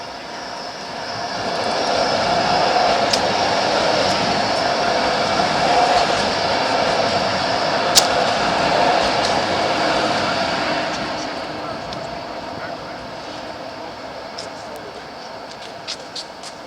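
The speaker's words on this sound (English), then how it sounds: "Waiting for the train." In Calgary a train rumbles past in a broad, steady roar that builds over a couple of seconds, holds, then slowly fades, with a few sharp clicks and rattles along the way.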